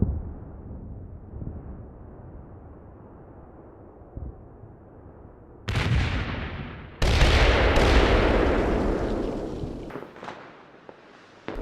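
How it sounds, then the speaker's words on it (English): Artillery shells strike in the Combat Mission war game: after a low ambient rumble, two heavy blasts land a second or so apart, the second loud and broad with a long rolling roar, then a few fainter thuds as it fades. "So we can see the rounds, they tend to fall around the same time, and there's quite a few seconds between each strike."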